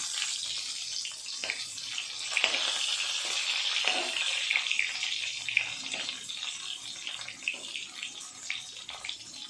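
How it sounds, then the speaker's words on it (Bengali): Pointed gourds (potol) fry in oil in a pan, a steady crackling sizzle with occasional sharper pops as pieces are turned, heard close and alone. "উল্টে পাল্টে পটলগুলো ভেজে নেব।"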